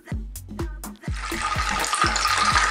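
Unsalted butter and olive oil sizzle in a frying pan, a bright, steady crackling hiss that starts after about a second of clattering tones and holds close and fairly loud.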